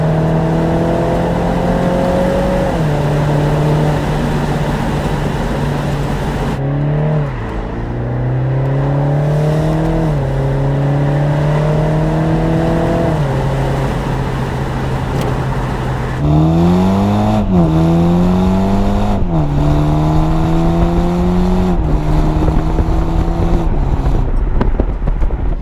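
A BMW Z4 sDrive20i M Sport G29 two-seater convertible with a 2-litre turbo engine, loud and steady as it drives, revs climbing and dropping through several gear changes, with a continuous engine drone and no talking.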